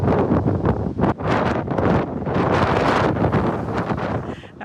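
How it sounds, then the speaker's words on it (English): Strong windstorm gusting across open country near Elgin in southern Manitoba, a loud, continuous roar of wind buffeting the microphone with surging gusts and no voices. "That was near Elgin as a windstorm blew across the southern part of the province yesterday."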